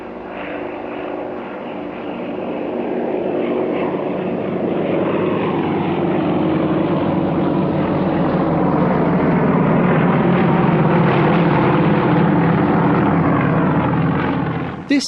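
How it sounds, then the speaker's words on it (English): Yak-52 and Yak-54 propeller planes fly aerobatics together at a Russian Air Force anniversary display, their engines droning loudly and swelling steadily as they pass close overhead. "the only team in Russia operating with the Yak-52 and Yak-54 flying together"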